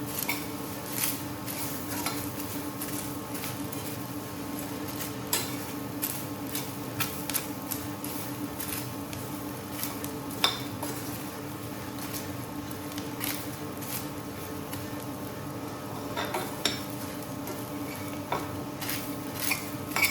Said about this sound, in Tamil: அப்பளத்தில் இதில் கொட்டி நல்லா கலந்துக்கலாம்.